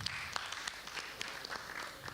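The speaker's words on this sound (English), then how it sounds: "Let's clap hands for Patricia" Audience clapping at a broadcasters convention in Southern Africa, a faint, steady patter of many hands with scattered sharper claps, heard at a distance and without voices over it.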